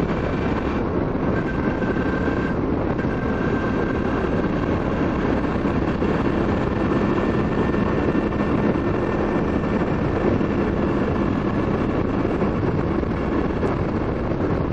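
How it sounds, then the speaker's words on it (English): A 2008 Suzuki V-Strom 650 motorcycle cruises at 90 km/h around 4000 rpm, giving a steady, continuous engine drone mixed with heavy wind roar throughout. "so I ride it now at the moment with 90 km per hour, 4000 RPMs"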